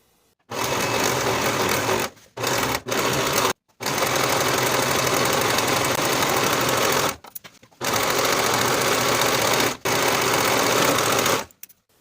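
A sewing machine finishes the curved crotch seam, outer seam and inseam of carpenter pants, running loud and steady in several long bursts separated by short pauses.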